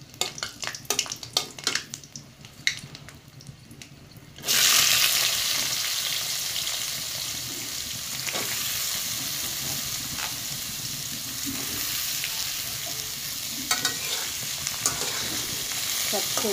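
Luchi frying in hot oil, a few clinks and scrapes of utensils, then a loud, steady sizzle that bursts up and continues close by with occasional stirring.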